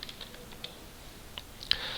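Computer keyboard typing while entering a folder name during file management, soft scattered keystrokes with a sharper clack near the end, close and fairly quiet, no voices.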